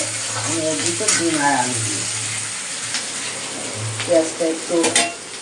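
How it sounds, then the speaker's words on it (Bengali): Boiled eggs and potatoes fry with onions in a pan, a steady close sizzle and spatter with occasional stirring, while a voice briefly speaks over it twice. "তাই ডিম আর আলুটা এর ভিতর দিয়েই ভেজে নেব একসঙ্গেই ভাজা হয়ে যাবে"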